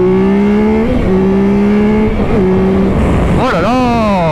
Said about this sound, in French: on va accélérer un petit coup